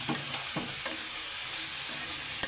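A spoon stirs a pan of simmering curry of catla fish with bean seeds, giving a few soft scraping strokes over a steady, hissing sizzle close by.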